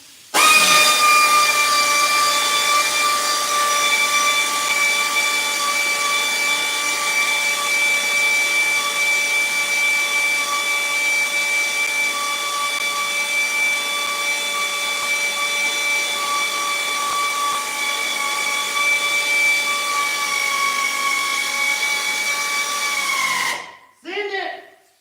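An Eastwood Contour SCT Finisher air tool runs loud and steady for about 23 seconds, giving a high whining hiss with strong tonal whistles. It spins down abruptly at the end, with no talking over it.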